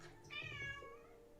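A pet cat gives a single drawn-out meow close by, fairly quiet, with no talk over it.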